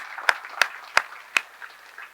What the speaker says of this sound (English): Let's have a round of applause for all of you who are here today